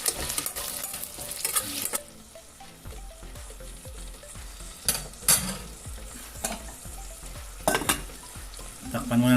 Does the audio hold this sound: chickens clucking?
no